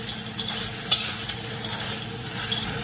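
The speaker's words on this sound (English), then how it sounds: "Give it a little stir." A spoon stirs crab paste sauce in a cooking pot, a steady close scraping swirl over continuous sizzling and frying, with no voices.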